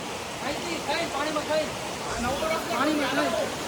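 Waterfall on a hill trek at Barda hill in Saurashtra pours in a steady broadband rush of falling water, constant and fairly near, with voices talking over it throughout.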